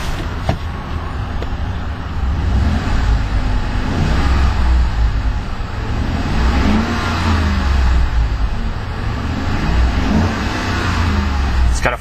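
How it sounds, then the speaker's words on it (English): A 2011 Ford F-150 King Ranch pickup's V8 engine revs several times up toward a 4,000 RPM limiter, loud and close, with a deep throbbing rumble that swells and falls across the whole stretch. "let's go ahead and rev it up a couple times and see how the engine sounds"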